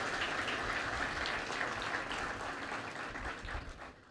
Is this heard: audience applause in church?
yes